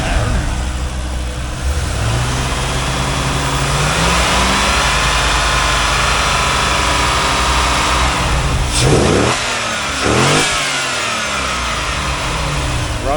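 A 2000 Chevrolet Corvette C5 with an LS1 V8 runs close by, a steady idle with rising and falling revs, then sharp blips near the end. Low speech sits faintly under the engine.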